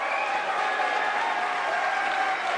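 Wrestling crowd at a King of Trios 2017 final cheering and applauding, a dense, steady roar of clapping and shouting that stays loud and continuous throughout.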